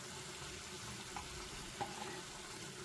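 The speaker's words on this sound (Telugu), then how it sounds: "నెయ్యి సరిపోలేదు కాబట్టి నేను ఇంకొంచెం నెయ్యి వేసుకుంటున్నానండి పైన" Ghee sizzles quietly in a pan for gomudikai halwa, a soft, steady frying hiss with a few faint clicks and no talking.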